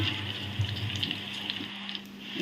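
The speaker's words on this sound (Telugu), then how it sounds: "మిర్చి కరివేపాకు ఇవన్నీ బాగా వేగిన తర్వాత ఇంట్లో పచ్చిమిర్చి కూడా వేసేసాను" Green chillies and curry leaves fry in hot oil in a pan for a spinach curry, a steady close sizzle and crackle with a low hum underneath and no talking.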